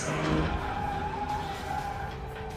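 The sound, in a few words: passing car hitting a boy, in M3gan film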